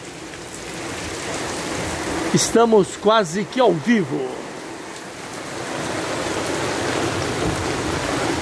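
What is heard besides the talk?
fairly heavy rain with wind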